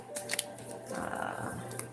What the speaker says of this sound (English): mixing of the cards after I shuffled them